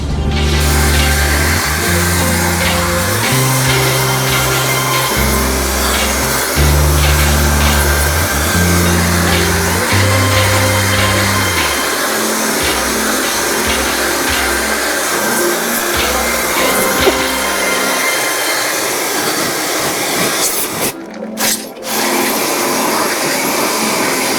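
A steady loud spray of water hissing against a Sanyo air conditioner during cleaning, with a rhythmic droning machine hum underneath that fades out near the end.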